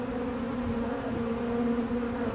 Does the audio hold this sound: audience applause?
no